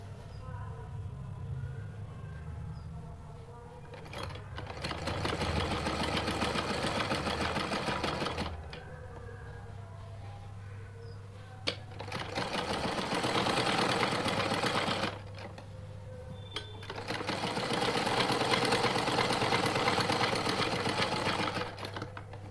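Sewing machine stitching a halter neckline, running in three loud sustained bursts separated by short pauses, with low machine hum and faint background voices.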